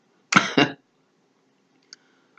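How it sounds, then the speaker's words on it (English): Two quick close coughs from a woman in a quiet room, sharp and rough, followed by silence and a faint tiny click. "my sister came over here with that cough"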